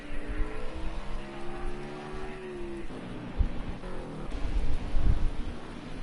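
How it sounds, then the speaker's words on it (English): Rain falls steadily at Daytona International Speedway in a NASCAR PC2 Cup Series racing game, a continuous wet hiss with low engine rumbles swelling in the background and no talk. "rain is still falling here in Daytona International Speedway"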